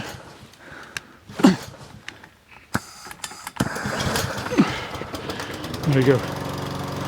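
Small engine on a homemade litter-collecting machine starts up and runs with a steady mechanical drone, preceded by clicks and a brief spoken remark.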